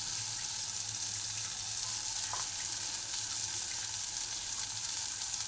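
Onions and tomatoes fry in a pan with spices, giving a steady, close sizzle that hisses evenly throughout with no voices.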